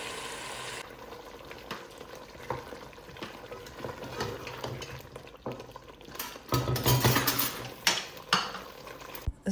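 Chicken stir-fried with spices in a pan gives soft sizzling under irregular scraping and clattering from a utensil, quiet at first and then louder with sharper knocks toward the end.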